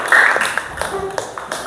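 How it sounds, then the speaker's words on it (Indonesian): A classroom of students gives brief scattered hand-claps for a presenting group, a short burst of nearby clapping that tapers off quickly. "tepuk tangan dulu, plus untuk kelompok 3"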